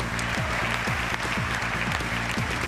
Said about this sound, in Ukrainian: Його промову в Конгресі більше як 10 разів переривали оплесками.